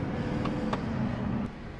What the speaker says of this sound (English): it sounds like a normal truck right now